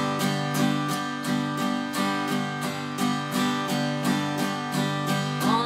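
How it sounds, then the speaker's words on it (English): Steady strummed chords on a guitar, played in an even, continuous down-up rhythm with a bright, ringing tone. "you can easily start this song by just doing a simple 8th note strumming"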